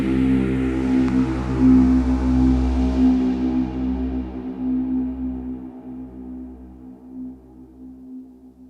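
Synthesized boss-fight sound effect built in the Pigments software synth for game music: a sustained, heavy drone with a deep rumbling low end and a wash of bright noise that fades out over several seconds, playing alone.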